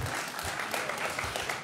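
A brief burst of dense applause fills a council meeting chamber, many hands clapping at once, moderately loud and continuous with no talking.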